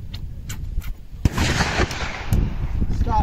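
Gunshot fired at cans during outdoor target shooting, one sharp loud crack standing out amid wind noise, with a few fainter pops and people talking nearby.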